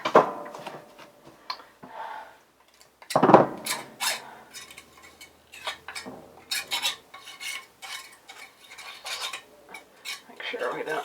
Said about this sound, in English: we're just getting our butter into kind of fine-ish chunks there